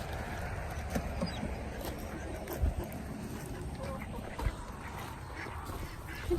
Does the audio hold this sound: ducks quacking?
yes